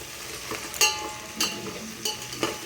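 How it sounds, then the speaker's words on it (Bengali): Vegetables fry lightly in a pan during khichuri preparation, giving a steady low sizzle, with a few sharp scraping stirs of a spatula coming about every half second, up close. "তারপর আমি সবজিগুলো দিয়ে দিলাম সবজিগুলো হালকা ভেজে নেব"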